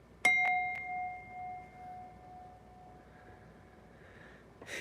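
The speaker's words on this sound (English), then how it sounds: "Another strike on the bell for Icy." A bell is struck once, giving a bright ding with a long ringing decay, followed by a few quick softer strikes and a faint background hiss.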